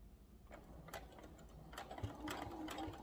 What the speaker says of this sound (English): Okay, so we're going to forward stitch